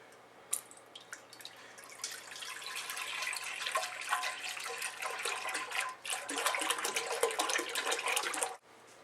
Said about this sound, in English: And then you need to add 8 cups of whole milk, which is also a 1/2 gallon.